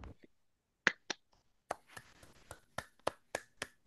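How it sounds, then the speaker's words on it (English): Students clap in an AP Calculus AB class, with sharp, close hand claps that come first as a few scattered hits and then as a quicker, uneven run of separate claps. "you don't need to clap so much"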